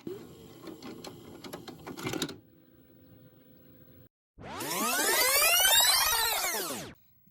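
A VCR ejects a VHS tape with about two seconds of busy mechanical whirring and clatter, settling into a low steady hum before a loud sweeping whoosh.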